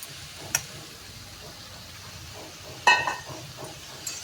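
Potato pieces, bori and young jackfruit are stirred and fried in a pan, giving a low, steady sizzle with a few scraping clinks from the spatula.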